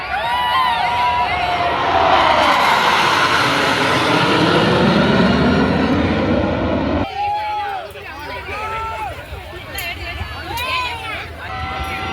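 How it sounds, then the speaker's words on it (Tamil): A jet aircraft roars overhead at the Chennai airshow on Marina Beach, its loud sweeping engine tone rising and falling, while a crowd chatters and calls out underneath. "ஒரு ஜெட் சம்திங் அந்த இடத்துல போயிட்டு இருந்தது"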